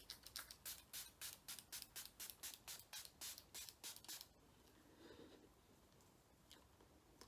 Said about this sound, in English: it says performance and setting mist, but we'll try it